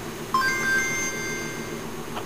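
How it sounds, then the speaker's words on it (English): A short electronic phone alert sounds once as a text message arrives, a bright chime that rings for about a second and then fades out, heard clearly over a quiet indoor background. "Goddamn text message."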